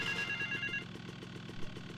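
Ringing of a mobile phone inside the video game GTA Vice City: a repeating electronic ring tone pulses clearly in short regular bursts, up close and fairly loud, with the game's low background rumble beneath and no talk.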